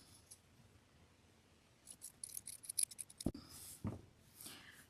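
Sharp scissors snip through fabric to cut out a heart shape, giving a quiet run of crisp, closely spaced cuts followed by a couple of firmer chops, close up in a still room.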